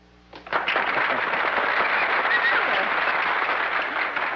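A studio audience applauds at a 1950s television drama show, the dense, steady clapping swelling in after a short quiet start and holding loud and full to the end.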